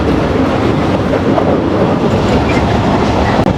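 The Mongla commuter train runs on its rails at about 80 km/h, with a loud, steady rumble and rattle of the wheels heard continuously from aboard.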